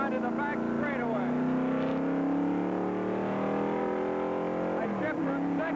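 A race car engine from the 1964 Road America 500 roars loudly and steadily, its pitch climbing and then dropping at each gear change, with several shifts near the start and another near the end.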